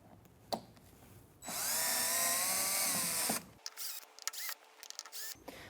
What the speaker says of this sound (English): We are going to remove these 4 screws here with your drill, and I've got a Phillips head here.